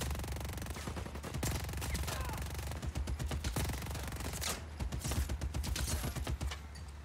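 Rapid bursts of automatic gunfire fill a chaotic firefight in the video game Just Cause 4, with dense overlapping shots and sharp cracks continuing loudly throughout.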